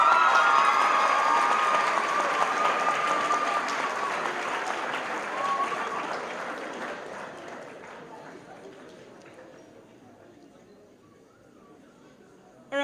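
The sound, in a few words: audience applause at a school assembly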